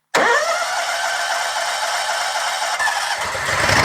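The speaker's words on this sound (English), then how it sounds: "last thing I'm going to do is start it up, let it run" A John Deere Z Series commercial zero-turn gas mower engine cranks and catches almost at once, then settles into a loud, steady close-up idle that rises slightly toward the end, with no talking.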